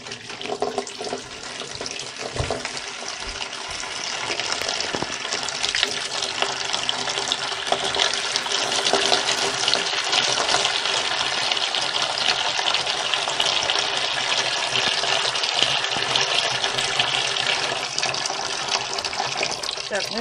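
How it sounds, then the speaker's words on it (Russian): Tap water pours steadily into a container in a continuous, loud, close rushing hiss that stays even for the whole stretch without pause, with no voices over it. "Так, ну я думаю, воды достаточно."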